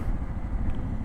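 A hot Suzuki DR650 dual-sport motorcycle engine runs with a steady low rumble, close and fairly loud, heard alone for a brief moment.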